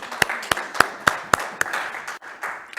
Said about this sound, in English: we need to clap hands for ourselves